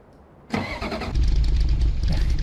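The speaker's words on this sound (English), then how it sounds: "Yep, that sounds like a VW right there." A VW bus engine in Farming Simulator 15 cranks over and catches, then settles into a steady, loud low idle that runs on by itself.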